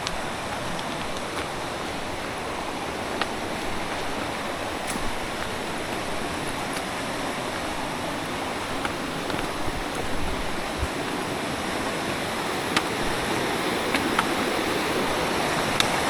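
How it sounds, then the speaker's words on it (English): Rushing mountain river water roars steadily and evenly throughout, a broad continuous wash of sound with small splashes and clicks scattered on top, on Mount Isolation, New Hampshire. "the sound of rushing water never gets old"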